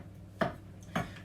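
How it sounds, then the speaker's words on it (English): A knife chops mushrooms on a board, with two distinct cutting thuds spaced about half a second apart, close and fairly quiet. "I'm going to just finish chopping these up"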